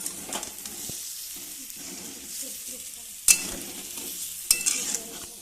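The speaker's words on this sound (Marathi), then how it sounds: "आता ह्या वड्या टाकून घेतल्या. हे सगळ्याला मिक्स करून घेते." Vadi pieces being stirred into a sizzling vegetable mixture in a pan, with a steady frying hiss and two sharp spoon scrapes against the pan, close up and with no talking.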